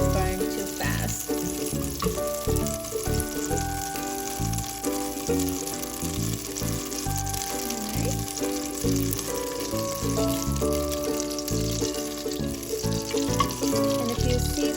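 Butter frying in a pan for vegetable fried rice, a steady loud sizzle that runs the whole time with faint clinks and stirring, no talk.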